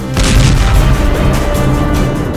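A single powerful explosion erupts abruptly, a deep booming blast followed by a long, loud rumble that slowly fades, in the Russia-Ukraine war.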